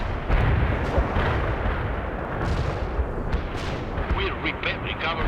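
Artillery barrage in the video game World in Conflict, a loud churning mass of booming impacts and gunfire rolling on continuously, with a few sharper crackling bursts near the end.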